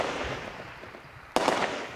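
Outgoing gunfire from an army defense position, heard as a sharp, loud burst of cracking shots that lands after a stretch of quieter low rumbling background.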